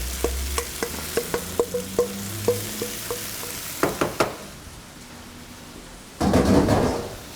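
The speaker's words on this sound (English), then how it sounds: "I'm going to add my cooked orzo." Cooked orzo going into a pan of sautéed vegetables, first a run of sharp spoon taps and clinks, then a pause and a sudden burst of sizzling stirring.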